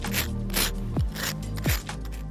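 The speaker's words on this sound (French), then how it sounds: "Alors là, je gratte le pied" Repeated rough scraping strokes, close and rhythmic, as a tool rasps against bark at the base of a tree, with a couple of short sliding squeaks between strokes.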